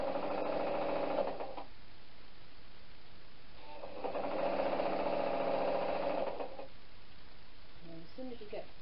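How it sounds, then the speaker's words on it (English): A sewing machine stitches the ends of a fabric knitting needle case in two steady, humming runs of rapid stitching separated by a pause, close up and moderately loud, with a voice speaking during the stitching. "Just to sew the ends together."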